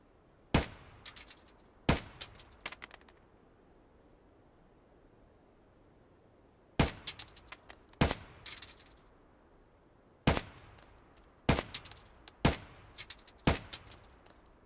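Gunfire in Escape From Tarkov: sharp, loud broadband shots in irregular bursts of one to three, separated by quiet gaps, with no voices.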